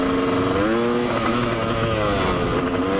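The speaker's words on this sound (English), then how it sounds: "It should be wheeling when I open up the throttle in every gear." A Honda CR500 two-stroke dirt bike engine revs hard on the throttle, a loud, continuous buzzing drone close up whose pitch rises and wavers throughout, with no talking.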